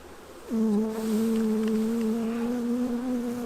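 Honey bees buzz steadily in an opened beehive during queen cell work, a close continuous drone that swells in after a quiet start and holds level without voices.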